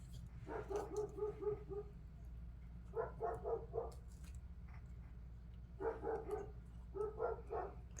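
Neighbouring dogs bark outside at people, heard faintly at a distance. Four bursts of quick, yappy barks come over a steady low hum, with pauses between the bursts.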